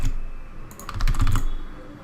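Quick clattering keystrokes on a computer keyboard, entering a record into a browser form, come in a short burst after a brief pause, close and moderately loud.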